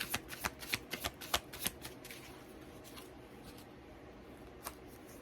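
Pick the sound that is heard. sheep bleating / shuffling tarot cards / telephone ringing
shuffling tarot cards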